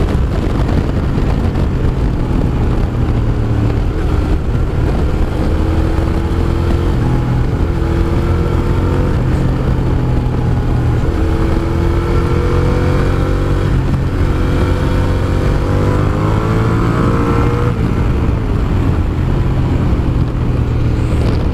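A Suzuki SV650S motorcycle restricted to 47bhp accelerating on the road, its engine droning loudly and rising in pitch through the gears under constant wind rush, close and continuous without talk.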